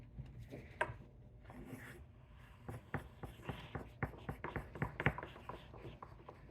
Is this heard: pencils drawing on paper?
yes